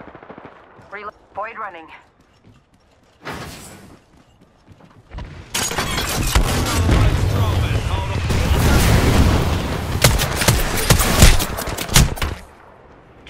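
Sustained automatic gunfire in the Apex Legends video game, loud and dense from about five seconds on, with short bursts and a brief voice earlier before the barrage.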